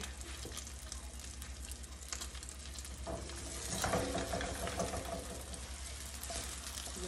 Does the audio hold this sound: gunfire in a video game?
no